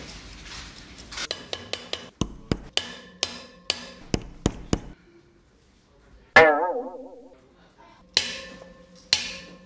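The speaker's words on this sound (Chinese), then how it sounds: "拿锤子砸一下，砸平。" A small mount pad is struck with a hammer to flatten it, sharp metallic blows landing in a quick irregular series, then a pause, a ringing clang, and a few more hits close by.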